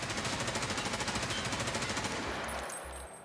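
Automatic fire from an M4A1 or AKM rifle in Escape from Tarkov: one rapid, evenly spaced burst, loud and close, runs for over two seconds and then stops, leaving a short fading tail.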